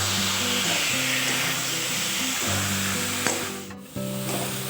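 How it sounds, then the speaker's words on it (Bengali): Chana dal, potato and papaya sautéing in a pan, with a continuous sizzling hiss under a steady low mechanical hum and a couple of brief scraping clicks. "এখানে আমি ছোলার ডাল, আলু আর পেঁপে খুব সুন্দর করে কষিয়ে নিয়েছি"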